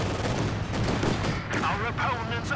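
Dense rifle and machine-gun fire crackles in a World War II strategy video game match, with conscript infantry trading shots, a continuous battlefield din of overlapping bursts and thuds under a commentator's voice.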